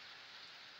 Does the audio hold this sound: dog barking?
no